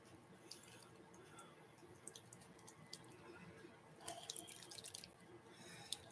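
Water splashing and dripping from a bathroom tap into cupped hands during a skincare cleansing routine, quiet and close, with a brief louder burst of splashing partway through.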